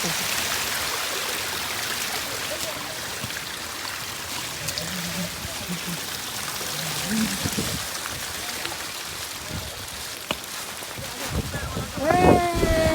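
A waterfall on the Kudajadri trek in the Western Ghats gives a broad, steady rushing roar, and people's voices come and go over the constant water noise.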